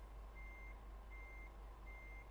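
A truck's reversing alarm in Euro Truck Simulator 2 beeps three times in an even slow rhythm over a low idling engine drone, faint and steady.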